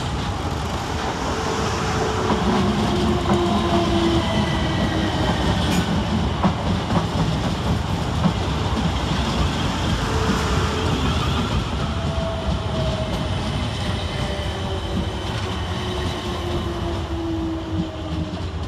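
Two coupled South Western Railway Class 455 electric units roll into Clapham Junction station, a loud, steady rumble of wheels on track with drawn-out squealing tones, filling the whole stretch without any talk.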